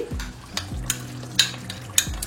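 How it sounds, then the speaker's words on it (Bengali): Cashew and raisin paste sautés in a pan with a soft sizzle, broken by several sharp spoon-on-pan clinks and scrapes as it is stirred, close up and quiet with no talking. "একসাথে সব কষতে থাকুক।"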